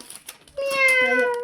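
During an Arabic animal-sounds game, a person imitates a cat's meow, a drawn-out, tonal, nasal call close to the mic that follows a few soft clicks and brief bits of speech.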